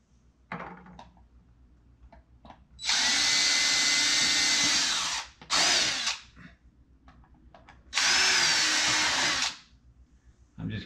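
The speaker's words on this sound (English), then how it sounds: "I'm just going to put a couple of screws in to hold it in place." A power drill drives screws into a board in three loud whirring bursts, one long, one short and one medium, with quiet gaps between them.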